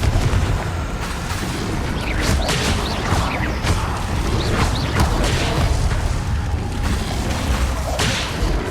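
Bombarda explosion spells go off in Hogwarts Legacy as a loud, continuous barrage of booming blasts and whooshing swishes, dense and close with no pause.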